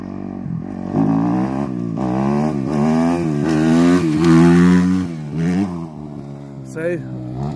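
A motorcycle engine revs hard through rising and falling pitch sweeps while the bike pulls a wheelie, loud and close, with a voice briefly audible.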